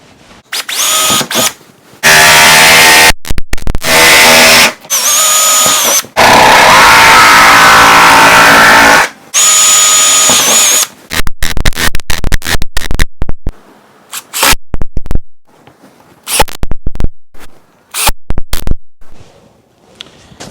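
Power tool cutting door card panels to size for an 80 series Land Cruiser, heard in several loud bursts of a few seconds each, with brief pauses between them and lighter scraping and handling noises afterward.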